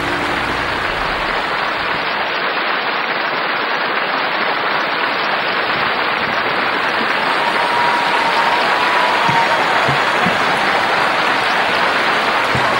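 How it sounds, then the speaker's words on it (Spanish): Loud, sustained crowd applause at a live concert, steady dense clapping from a large audience filling the whole span without a break. "Ernesto y Francis, aplauso fuerte para ellos, por favor."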